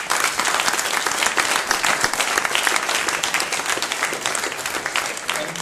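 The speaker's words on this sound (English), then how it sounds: "Big applause." An audience at a tech conference talk applauds, sustained dense clapping throughout at even strength, close and full with no pauses.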